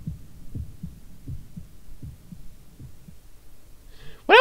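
In a horror video game, soft low heartbeat thumps repeat in a steady rhythm against near silence, then a sudden loud, bright tonal sting cuts in at the very end.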